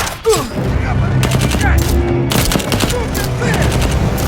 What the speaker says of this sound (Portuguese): Começa uma troca de tiros intensa, Manel segue para o mais longe possível